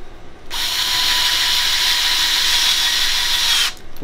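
A power drill drives a screw into the vent of a condensing Rinnai tankless water heater, giving one continuous close, loud whirring burst of about three seconds with a short quiet gap before and after.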